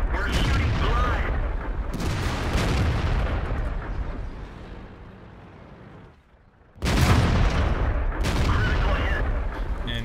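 Tank cannon fire in World of Tanks during a T26E4 Super Pershing match: several loud, booming shots spaced a few seconds apart, each with a rumbling tail, over a constant din of game noise.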